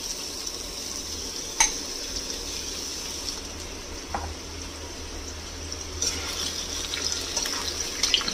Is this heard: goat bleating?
no